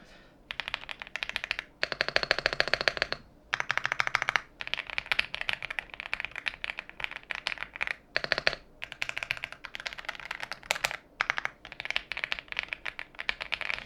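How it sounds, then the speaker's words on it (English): Rapid clacking bursts of typing on an Epomaker x AULA F75 plastic gasket-mount mechanical keyboard, close up, with short pauses between runs of keystrokes. "so you guys can get an understanding on how the keyboard sounds like"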